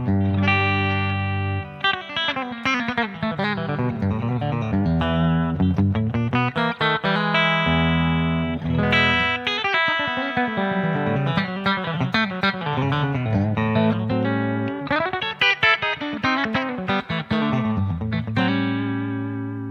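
Electric guitar played through a Two Notes Torpedo using a 212 Blonde 63 cabinet simulation with an 87-style condenser mic, amp controls at 5 and light reverb, delivers a continuous bright clean-to-driven melodic passage with chords and runs, unaccompanied by speech.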